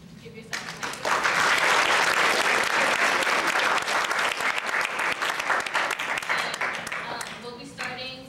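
At a school class event, a crowd breaks into loud applause that swells quickly and stays full for several seconds before fading, with faint speech at the edges.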